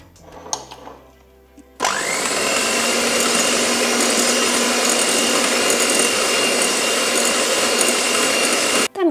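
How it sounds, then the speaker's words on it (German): An electric hand mixer whips eggs and sugar until creamy for an air-fryer apple cake; it starts abruptly after light kitchen clatter and whirs loud and steady until switching off at the end. "hier werde ich die Eier mit dem Zucker cremig aufschlagen. Dafür brauche ich den Handmixer."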